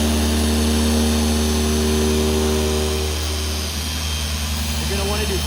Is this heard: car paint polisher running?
yes